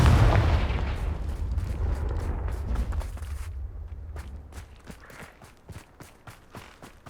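A Confringo fire spell explodes in Hogwarts Legacy, starting with a loud booming blast and rumbling low roar that decays over several seconds into scattered footsteps and light impacts.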